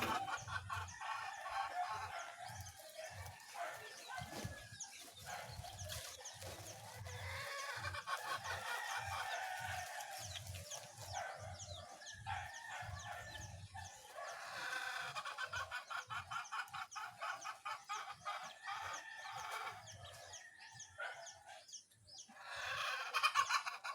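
Backyard pet chickens clucking continuously at morning feeding, with roosters crowing now and then, a steady busy flock heard fairly close.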